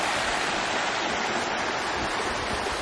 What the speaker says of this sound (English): Little waterfall right there.